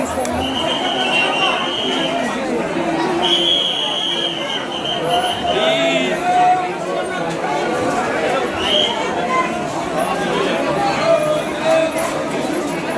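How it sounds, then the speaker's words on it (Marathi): Crowd of pilgrims queuing at a temple in Solapur, a busy murmur of many voices with nearby talking, occasional chimes and high electronic tones cutting through. "बघा किती गर्दी आहे, तुम्ही बघू शकता इथे त्याच्यामध्ये"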